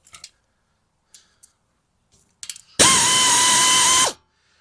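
A bolt being loosened on a Gravely Pro-Turn 152 commercial mower: a few faint clicks and taps, then a loud, steady whir of a power tool running for about a second and a half before stopping.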